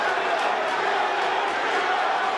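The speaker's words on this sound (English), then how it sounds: "The crowd buzzing, they sense something." A large boxing arena crowd buzzing with a dense, steady murmur throughout, loud and continuous with no distinct individual voices standing out.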